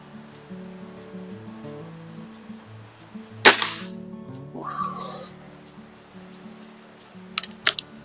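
A Weihrauch HW35E spring air rifle fires at targets 25 yards away, giving one sharp, loud crack followed by a short ringing tail, then quieter clicks and handling noises a few seconds later.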